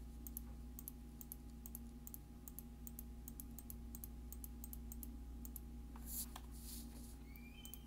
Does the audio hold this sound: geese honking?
no